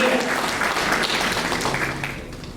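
Audience applause at a debutante ball, a fairly loud continuous patter of many hands clapping that gradually thins and fades toward the end.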